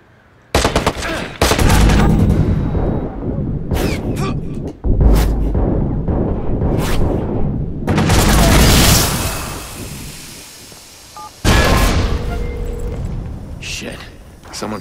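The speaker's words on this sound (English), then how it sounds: "Oh, I got this light machine gun." Automatic bursts from a light machine gun in the video game Watch Dogs, several loud volleys with sharp booms and gaps between them, close and dominant, with game voices mixed in.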